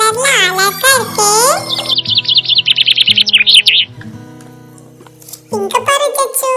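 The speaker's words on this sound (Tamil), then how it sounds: "இது என்ன பறவைன்னு எனக்கும் தெரியல." An unidentified bird with red wings chirps in rapid, high repeated notes in a kids' park, close and clear in the middle of the clip, with children's voices talking before and after.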